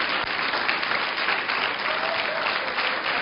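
Church congregation applauding during a sermon, a dense, continuous wash of many hands clapping loudly and evenly throughout, with no voices standing out.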